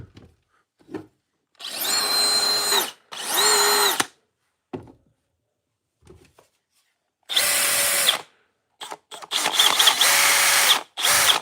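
A Ridgid cordless drill whirs in several short bursts, revving up and stopping, close and loud, with quiet gaps and small clicks between runs.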